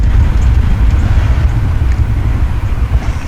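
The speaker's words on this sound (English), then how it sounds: "Let's go for a short drive." A VW Touareg driving on the road after a front brake pad replacement, with a steady low engine and road rumble heard from inside the cabin, continuous and fairly loud with no talking.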